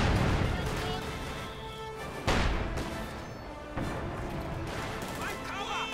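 Mortar and artillery fire from the World War II strategy game Company of Heroes 2 in a 1v1 match, heavy booming blasts and crashes under dense battle noise, with a sharp new impact partway through and voices talking over it.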